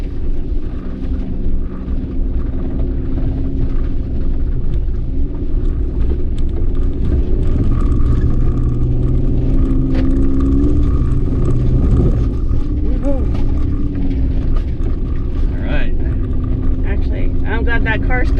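A vehicle engine labours steadily while climbing a steep, loose dirt corner near Mexican Hat, a continuous low rumble running under people talking.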